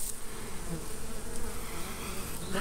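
Honeybees swarm close around an aggressive backyard hive, bumping against hands, in a dense, continuous buzz that fills the whole moment up close.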